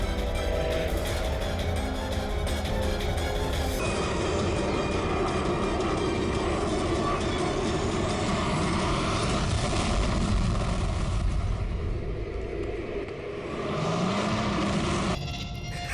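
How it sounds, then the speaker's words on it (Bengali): Aircraft going down in a televised crime drama's plane crash scene: a loud, steady engine roar with a dense rumble that fills the whole stretch without let-up, no voices. "এবার এই প্লেনটা পড়বে।"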